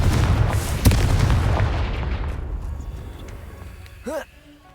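Confringo blasting spell detonating in Hogwarts Legacy, a sharp loud boom followed by a long decaying rumble, then a brief whooshing magical chirp near the end.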